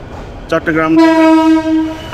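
A loud, steady train horn blares close by for over a second after a brief clatter, at Chittagong railway station.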